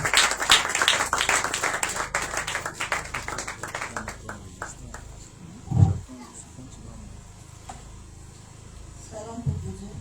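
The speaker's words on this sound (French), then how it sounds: "Sous vos acclamations, s'il vous plaît." Audience applause greets the opening of an event: dense clapping from a crowd for the first few seconds, thinning gradually into scattered claps and a murmur, with one brief thump midway.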